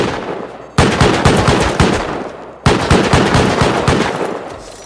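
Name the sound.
automated turrets firing gunfire in video game Rust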